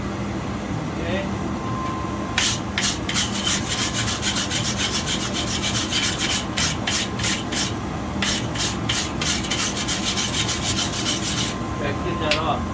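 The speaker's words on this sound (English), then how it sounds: "nice wire brush and give it a good brushing, and that'll help with the buildup" Wire brush scrubbing scale buildup off a small hand-forged hunting knife blade, heard as bursts of rapid, harsh bristle strokes in two clusters over a steady background hum, close and fairly loud.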